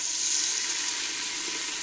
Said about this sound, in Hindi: गोभी की डंडियां भी बॉईल हो रही हैं